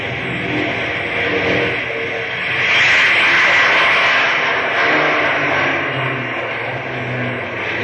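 An airplane engine in a radio drama drones steadily, then swells louder as the throttle comes up for takeoff and settles back into a loud, continuous roar.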